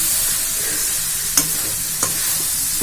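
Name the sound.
stirring tamarind rice in a pan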